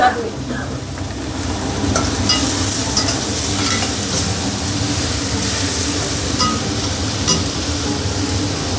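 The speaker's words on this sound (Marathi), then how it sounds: "दोन मिनटं कांदा शिजून घेतो" Onions cooking with salt in a pot for an Agri-style wedding curry of peas, brinjal and potato produce a loud, dense sizzle with rough stirring scrapes that swells after the first second.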